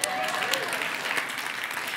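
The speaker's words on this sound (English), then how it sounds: "You're supposed to clap at that one." An audience claps together at a motivational talk, a steady, dense wash of applause that fills the whole moment, with a voice faintly audible underneath.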